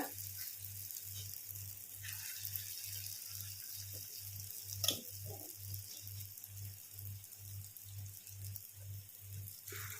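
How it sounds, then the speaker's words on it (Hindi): Moong dal vadas frying in hot oil in a kadhai, a steady soft sizzle throughout with a faint low rhythmic hum underneath and one brief clink midway. "अब हम इनको अलट पलट के गोल्डन ब्राउन होने तक सेक लेंगे।"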